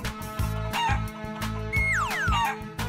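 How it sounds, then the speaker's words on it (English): A cartoon chicken clucks and crows in a children's animal painting cartoon, several short calls over a steady, loud musical backing. "Chicken."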